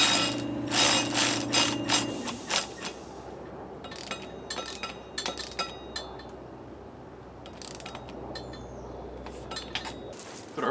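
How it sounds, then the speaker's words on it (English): Tool tightening a valve stem on a Harley Road King motorcycle wheel during a home flat tire repair, with a series of close metallic ratcheting clicks and clinks in irregular bursts. "Go ahead and tighten up this valve stem."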